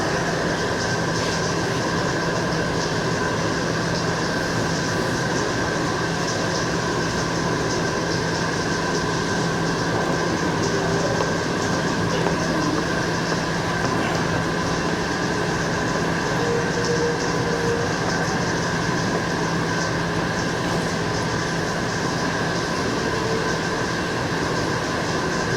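A train runs on rails in a station, a loud continuous rumble with steady hum and faint wheel clatter and squeal, constant and close throughout.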